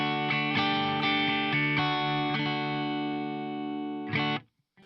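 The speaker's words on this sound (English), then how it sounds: "this is what the amp sounds like dry" Electric guitar amp on a Headrush pedalboard rig played dry with no effects, a few strummed chords ringing out and sustaining for several seconds before a last strum is cut off, close and clear, no voices.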